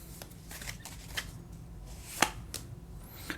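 Tarot cards shuffled and drawn from a deck, giving soft papery riffles and slides with a few sharper snaps of cards laid down, fairly close and quiet, with no talking.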